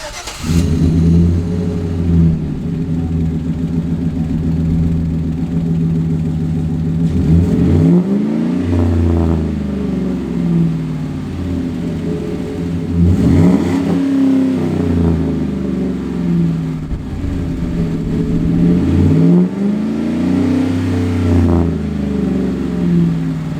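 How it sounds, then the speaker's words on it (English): A lifted 2013 Chevy Silverado with a 5.3-liter V8 and Flowmaster American Thunder exhaust revs repeatedly, deep and burbly, loud and close, with throaty rumbles rising and falling between blips. "we put the Flowmaster American Thunder exhaust on here, so let's take a listen to what that sounds like"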